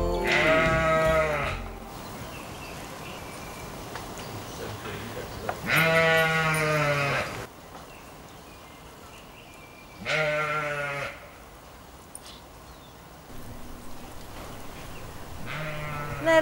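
Several sheep bleating on a farm in loud, harmonic bursts about two seconds long, with near calls spaced across the stretch and quieter gaps between them.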